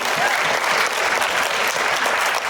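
A short, loud burst of steady clapping from students and parents at a sixth grade school assembly, dense and continuous throughout with no voices standing out.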